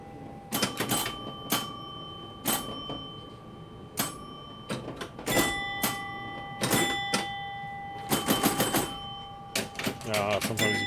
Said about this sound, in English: And so now we got bells a ringing.